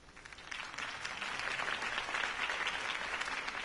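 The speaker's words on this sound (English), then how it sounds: "If only Mr. Wayne, my campaign's largest backer, could have heard that applause" Crowd applause following a campaign speech, a steady wash of clapping that builds slightly and holds at a moderate level, fairly distant, with no voices over it.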